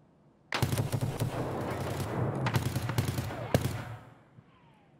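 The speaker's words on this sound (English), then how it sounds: "Are you being shot at? Yep." Gunfire in Escape from Tarkov: a sudden burst of rapid shots that breaks into a sustained loud volley with sharp cracks, then tails off into echo, with voices mixed in.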